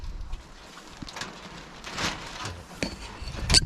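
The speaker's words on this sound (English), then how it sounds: "Setting up the stove." A metal stove being set up inside a hot tent at a cold January winter camp gives scattered clanks and knocks, a few sharper metallic hits standing out, fairly close and with no talk.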